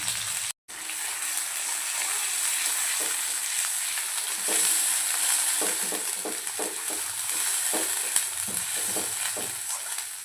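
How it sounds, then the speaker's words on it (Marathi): A tomato and onion masala paste hits hot oil in a kadhai and sizzles in a steady, close frying hiss, broken by soft rhythmic scrapes and knocks of stirring through the second half. "यामध्ये आपण जो मसाला काढला होता ते ॲड करूया. टोमॅटो आणि कांद्याचा."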